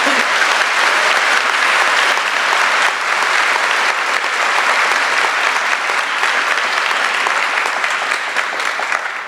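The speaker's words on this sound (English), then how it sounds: "yeah, you can clap" Sustained, loud applause from a large crowd at a law school commencement ceremony as an award is announced, a thick continuous wash of clapping that holds steady and then begins to taper at the end.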